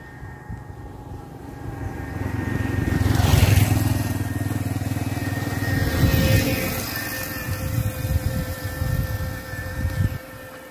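A 2010 Bajaj Platina 100 motorcycle engine runs close by, its steady low drone rising twice as if revved, then settling into uneven idle pulses.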